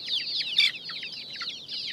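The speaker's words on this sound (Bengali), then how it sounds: "কবুতর আর মুরগি এখানে মারামারি।" Hens on a rooftop pigeon and hen farm clucking in quick, agitated bursts while squabbling with pigeons, loud and close with no talk.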